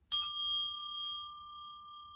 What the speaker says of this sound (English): let me ring the bell so we can get out of this energy.